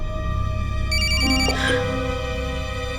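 An incoming call sets a phone ringing with a steady electronic ringtone, loud and close, over a faint background hum with no speech.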